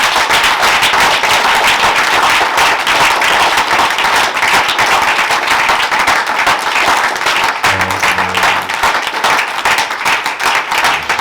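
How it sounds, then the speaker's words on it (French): A church congregation at a baptism service applauds with dense, loud, continuous clapping that fills the whole stretch without a break. "Acclamons encore une fois pour vous."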